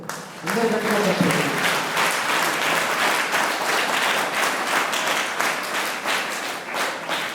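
Sustained applause from a sizeable crowd at a chess board distribution event in Parvathagiri, Warangal, dense and even, with a voice briefly audible at the start.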